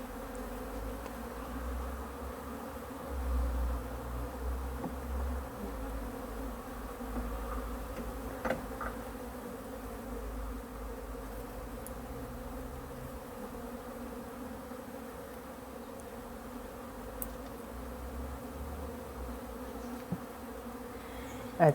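Honeybees buzz in a steady, dense drone around open hives during a slow, careful inspection by a beekeeper, the hum continuous throughout with a few faint clicks and knocks from handling frames, no talking.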